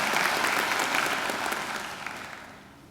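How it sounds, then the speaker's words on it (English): Applause at a university graduation ceremony, a large audience clapping densely and steadily, then gradually fading over about three seconds. "I think we should give David a great round of applause for a great occasional address."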